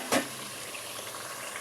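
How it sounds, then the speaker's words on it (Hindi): Masala frying in oil for a turnip chicken curry gives a brief stir burst near the start, followed by a steady, quiet sizzle that continues alone without talk. "चले अब मैं इसकी करती हूँ भुनाई।"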